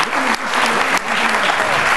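Audience applause fills a debate hall after a panel of speakers is thanked, a steady, close burst of many hands clapping for the full stretch.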